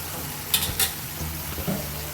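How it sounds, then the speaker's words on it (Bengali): Pumpkin vine shoots fry with salt in a pan, with a few soft scraping stirs and low sizzling, close and fairly quiet, with no talk. "এখন একটু ডগাগুলোর মধ্যে লবণ দিই ভাজা ভাজা করে নেব ডগাগুলোকে"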